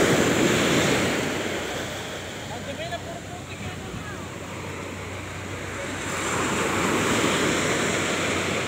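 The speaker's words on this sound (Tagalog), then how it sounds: "Ang laki ng mga alon, no?" Big ocean waves crash and roar continuously at Calayo Beach, Nasugbu, Batangas, with heavy wind buffeting the microphone; surf swells louder toward the end.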